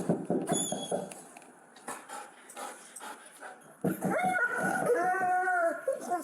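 A dog howls and whimpers during a sheriff's office arrest at a man's home, with yelping cries rising into sustained wavering howls in the second half and voices present nearby.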